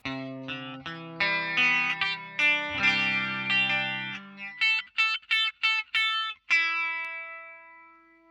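Guitar notes and chords through a pitch modulation pedal set to low rate and high depth, with a wavering, detuned chorus-like shimmer, strummed then picked in quick stabs, ending on a ringing sustained chord.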